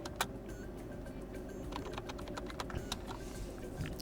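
Quick clattering keystrokes on a computer keyboard while entering a Linux terminal command, with irregular clicks over a low steady background hum.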